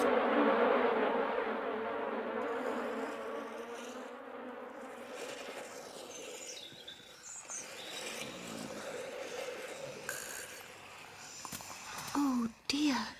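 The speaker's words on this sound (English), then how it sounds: "I shall ask Benjamin Bunny to help me drive out these tiresome bees." Bees hum in a close, droning buzz that is loudest at the start and fades gradually, with the steady whine continuing faintly behind later sounds.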